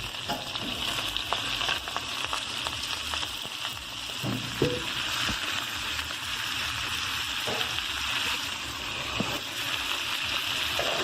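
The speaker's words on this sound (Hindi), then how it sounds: "ये नूडल्स बना रही हूँ, ऑयल मैंने डाला है कढ़ाई में। अब ये मैं सब्जी डाल दूँगी सारी।" Mixed vegetables hiss and crackle in hot oil in a kadhai wok while noodles are being made, a loud, steady close sizzle with occasional stirring scrapes and no talking.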